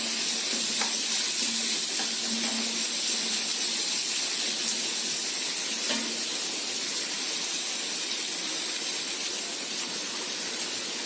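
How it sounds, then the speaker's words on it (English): Pakora frying in hot oil, a loud continuous hissing sizzle that holds steady throughout with faint occasional pops, no talk. "Here I have kept oil for frying the pakora."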